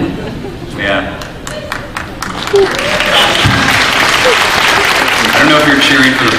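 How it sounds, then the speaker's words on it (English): A convention panel crowd cheers and applauds in a sustained, loud wash of clapping and whoops, with scattered claps at first swelling into fuller applause that holds steady to the end. "I don't know if you're cheering for the Pawns winning"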